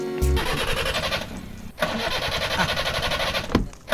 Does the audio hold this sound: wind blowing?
no